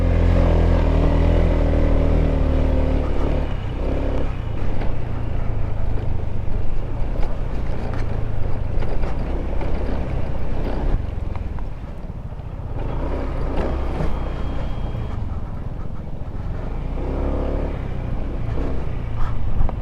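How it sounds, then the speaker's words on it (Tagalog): Strong mountain wind blows up from a ravine on Mt. Ugo in cold, foggy forest, a loud continuous low rumble and buffeting roar against the microphone, with a steady drone beneath it and no voices. "Ganyang kalakas yung hangin na nanggagaling dito sa kabila"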